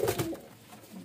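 Pet pigeons, including Golden and Teddy breeds kept by a breeder, give a short, soft coo up close, a low throaty call fading into quiet.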